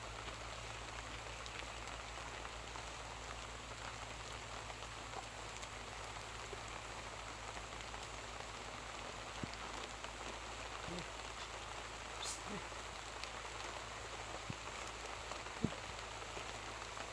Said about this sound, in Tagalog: Nagkusog-kusog na sa ulan.